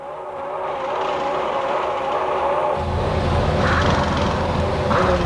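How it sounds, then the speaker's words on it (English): A 1996 Formula 1 car engine held on the rev limiter, a loud steady buzzing whine with a wavering pitch that grows heavier and fuller partway through, continuous with no pauses. "You hear the engine of the rev limiter?"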